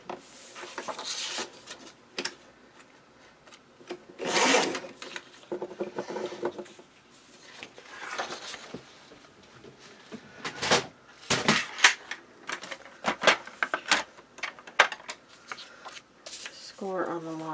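Paper for a mini album page is cut on a trimmer, with scattered sliding and crisp cutting strokes, rustles and taps of handled cardstock, close and fairly quiet.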